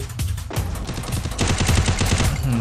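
Rapid automatic gunfire from the shooter game Free Fire rattles in loud, close bursts of quick repeated shots, with one short pause early on.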